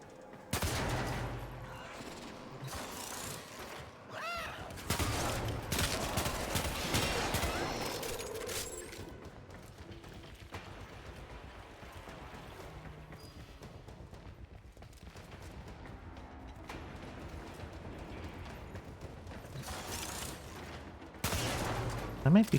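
Shotgun blasts ring out in the video game Warframe, loud bursts of gunfire clustered near the start and again at the end, separated by quieter game ambience with little else standing out.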